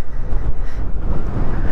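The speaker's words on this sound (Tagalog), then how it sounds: "Lakas ka lang ng hangin." Strong wind buffets the microphone in a continuous loud, low roar on a scenic mountain road to Fantasy World with landslide traces, gusting steadily throughout with no voices.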